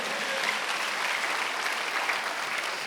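A church congregation at a Sunday worship service claps in dense, continuous applause, an even wash of many hands at moderate loudness without any talking over it.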